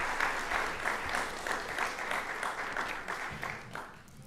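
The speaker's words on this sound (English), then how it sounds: "How about another round of applause for Klaudia?" An audience at a university athletic hall of fame induction ceremony applauds, a steady burst of many hands clapping that fades slightly toward the end.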